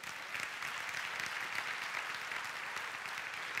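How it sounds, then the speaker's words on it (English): A church congregation applauds in praise at a pastor's call, steady dense hand clapping sustained throughout, fairly distant and even in loudness with no break. "Would you give the Lord a hand clap of praise?"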